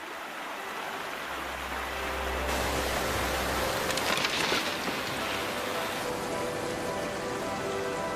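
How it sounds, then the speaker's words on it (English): Heavy rain pours down steadily, a dense, hissing wash of drops that holds constant and loud throughout, with no voices. "The heavy rains inland bring the largest flash flood in a decade."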